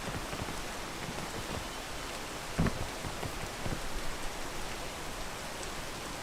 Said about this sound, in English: Wait for this rain again